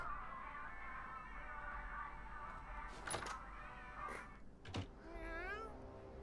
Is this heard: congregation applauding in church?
no